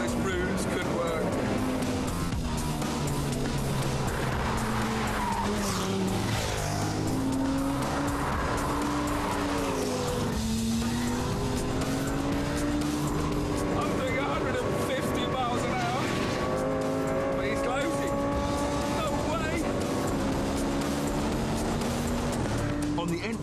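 Race cars at high speed, around 150 miles an hour on a long straight, one closing on another, with loud, continuous high-revving engines whose pitch climbs and shifts through gear changes under a voice.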